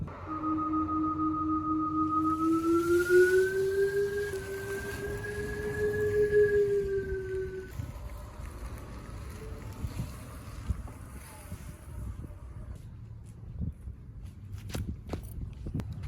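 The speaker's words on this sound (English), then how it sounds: "here's the noise." A Tesla Model 3 in reverse gives off a steady electronic whine that rises slightly in pitch and then holds before stopping, heard outdoors with wind noise and light footstep-like sounds around it and no talking.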